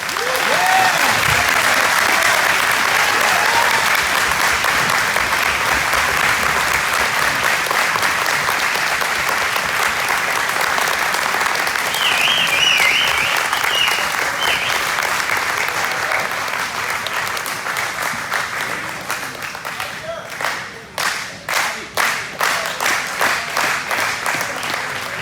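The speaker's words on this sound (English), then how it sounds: "this is more than just a clap because I said a good line" Loud, sustained applause fills a graduation ceremony hall at the Mesivta of Waterbury 2023 graduation, thinning toward the end into a few distinct, separate claps.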